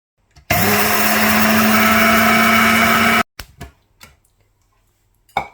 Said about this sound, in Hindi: अब अलसी को पीस लेते हैं, थोड़ा थोड़ा करके पीसना है।